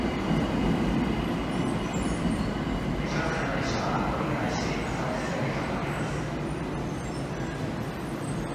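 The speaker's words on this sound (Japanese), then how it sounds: "ちょうど、電車が来ました。" A Tokyo Metro Ginza Line train rumbles into Shibuya Station with a steady, loud rushing roar and faint metallic squeals, while indistinct voices sound faintly in the background.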